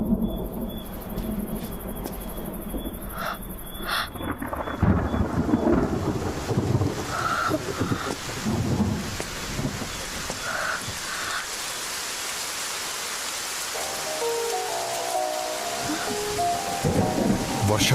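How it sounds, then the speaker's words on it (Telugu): Steady rain falls with rumbles of thunder, first sharp then rolling, through the whole stretch, with faint insect chirping and a brief voice murmur near the end. "వర్షం పడింది"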